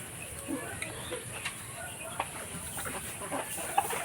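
A caged Light Sussex chicken clucks softly in short scattered bursts amid other farm fowl, quiet and fairly close over low background noise.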